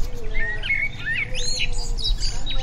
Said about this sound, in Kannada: ಪಕ್ಷಿದು ಚಿಲಿಪಿಲಿ ಸೌಂಡು